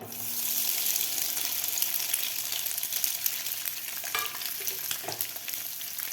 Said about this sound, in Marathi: अंडे सुद्धा आपल्याला तेलामध्ये व्यवस्थित फ्राय करायचे आहेत दोन ते तीन मिनिट